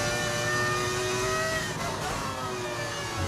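Steady high-pitched V10 Formula 1 engine drone in the F1 25 racing game, harmonic whine holding near-constant pitch with a slight dip midway, loud and continuous with no talk.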